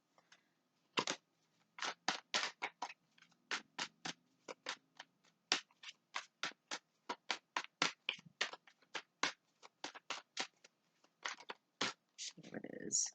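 Tarot cards handled and pulled from a deck, a long series of crisp, quick snaps and flicks in an irregular rhythm, close and fairly quiet, ending with a brief rustle.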